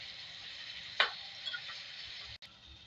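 Chopped tomatoes stirred in a frying pan for sev tamatar bhaji, a soft sizzle running throughout with a sharp scrape of the spoon near the start and a few lighter clinks later.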